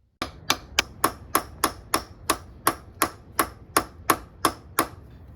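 A hammer strikes a rusty exhaust stud on a Miata in a fast, even series of about fourteen loud metallic blows, close and ringing, with no voices.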